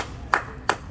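Two sharp hand claps from one person, evenly spaced about a third of a second apart, close and distinct with no talk.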